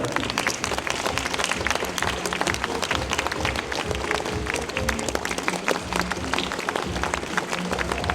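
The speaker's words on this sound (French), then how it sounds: "Applaudissements pour Erma et Heinrich" Crowd applause at a Venetian carnival in Rosheim, a dense, steady wash of clapping lasting the whole stretch with low background murmur underneath.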